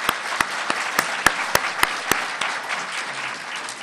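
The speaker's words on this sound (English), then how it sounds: "Let's give them a round of applause," Applause for a Navy SEALs panel at the 2013 Tucson Festival of Books: a hall of clapping with several sharp, distinct claps standing out early, then tapering off.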